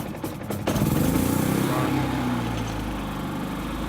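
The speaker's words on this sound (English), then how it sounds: "It's a Predator 3500 watt." A Predator 3500-watt inverter generator starts up, then runs with a steady, loud mechanical drone at full throttle, close by and with no talking over it.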